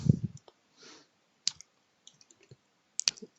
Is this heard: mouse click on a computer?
yes